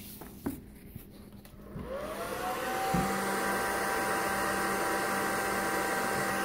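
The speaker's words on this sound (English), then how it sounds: "we're using a hairdryer" A hair dryer warming poly foam board insulation inside a truck bed camper cap starts up after a few light knocks and settles into a steady, close, loud whooshing blow with a constant whine.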